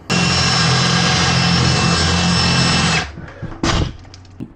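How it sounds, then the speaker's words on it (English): A power drill whines steadily for about three seconds while boring out wooden dowel rods, then winds down, followed by a short second burst and some handling noise. "I have to drill all of the dowel rods out"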